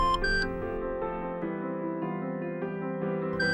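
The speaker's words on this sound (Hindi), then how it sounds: "अब की बार फिर मशीन में से एक आवाज आई और वो चमककर हरी हो गई थी।" Fingerprint verification machine giving electronic beeps, with short bright tones at the start and end over a sustained layered musical drone, clear and close with no speech.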